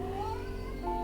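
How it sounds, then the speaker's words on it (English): A pet cat meows in the background indoors, a faint drawn-out wavering cry that rises then returns near the end, with no speech. "Don't know if you can hear that cat in the background now."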